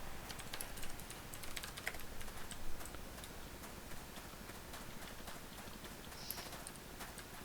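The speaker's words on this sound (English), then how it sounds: "I'm actually gonna type that." Quiet, steady clicking of a computer keyboard being typed on, an even patter of keystrokes continuing throughout with no talk.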